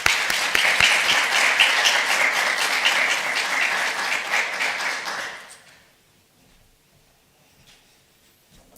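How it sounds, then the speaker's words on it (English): A conference audience at a Hamburg Pride human rights event breaks into loud, dense applause that holds for about five seconds, then fades out to near silence. "An applause,"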